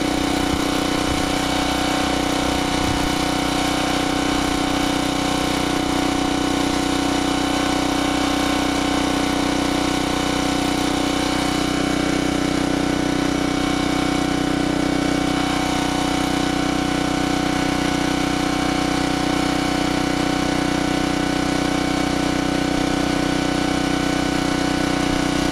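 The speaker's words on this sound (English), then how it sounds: "which is 350 watts, which is half the rating of this 750 watt generator" Generac 750 watt portable generator runs under load from an electric heater on its low 350 watt setting, giving a loud, steady, continuous engine drone with a strong unbroken hum close by, no talking.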